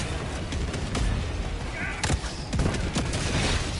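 A heavy machine gun emplacement in Helldivers 2 fires sustained bursts amid dense battlefield noise, with rapid shots blending into a continuous loud roar and occasional sharper cracks.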